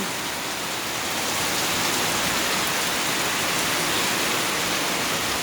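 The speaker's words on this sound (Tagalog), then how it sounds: "Ayan guys, oh, inulit niya yung ulan." Heavy rain pours down in a steady, dense hiss that stays loud and unbroken from start to finish, with no voices.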